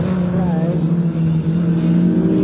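A Datsun 510 race car, number 85, driving through Brooklands on a racing circuit, its engine a steady, loud droning hum held throughout while a commentator talks over it.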